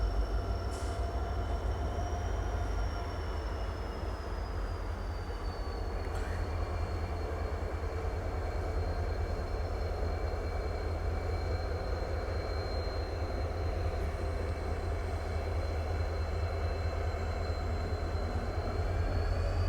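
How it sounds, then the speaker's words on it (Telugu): The 16004 Nagarsol–Chennai Central weekly express, hauled by a WDP-4D diesel locomotive, approaches along the railway track as a steady, distant low rumble with a faint whining tone above it, with no talking. "సో చూసుకుంటే దూరంలో ట్రైన్ అయితే వస్తుంది"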